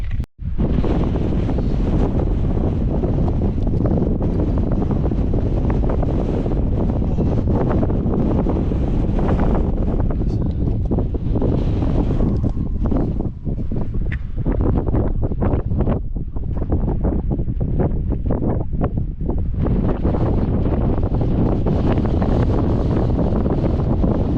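Strong, bitter wind buffets the microphone on a Dartmoor tor at Great Mis Tor, a loud continuous roar with gusting surges throughout and no talking.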